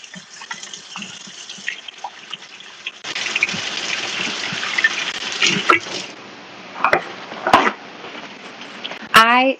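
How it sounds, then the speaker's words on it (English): A kitchen tap runs for hand washing, starting softly and then gushing steadily near the sink with splashes and rubbing, before shutting off with a few clunks and a squeak. "I'm going to wash my hands."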